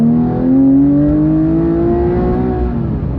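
A Porsche GT3 RS engine revs loud and close, its steady droning note climbing gradually in pitch with no talk over it.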